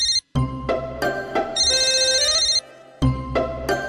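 A phone ringtone plays a bright, bell-like electronic melody in repeated rhythmic phrases, with short gaps between bursts. It is loud and close, with no voices over it.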